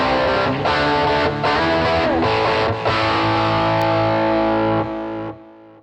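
An electric guitar played through a Headrush amp model with the boost on and preamp turned up, thick distorted chords ringing with chorus-like modulation, several strums then a sustained chord decaying to silence.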